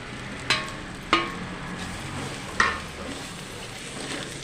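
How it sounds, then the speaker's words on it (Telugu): A utensil mixes turmeric, salt, garam masala and coriander powder in a frying pan for egg fried rice, giving three sharp scraping taps against the pan over a low, steady background hiss. "ఇవి అయితే బాగా కలుపుకోవాలండి"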